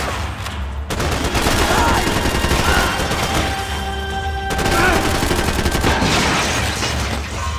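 Rapid bursts of gunfire from the Max Payne 3 video game, loud and dense with overlapping shots and a brief gap near the start, followed by a second heavy volley.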